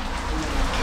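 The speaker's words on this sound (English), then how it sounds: "it is raining heavily" Heavy rain at the Munnar tea museum in Kerala makes a dense, steady hiss of drops falling on surfaces, close and continuous throughout the brief moment.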